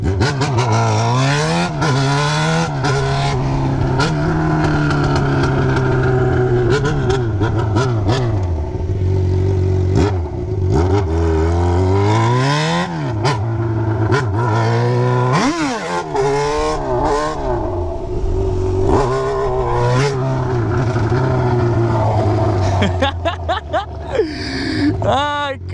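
A loud Yamaha XJ6 motorcycle engine runs steadily while riding, its pitch rising and falling with throttle changes, with a voice talking over it throughout.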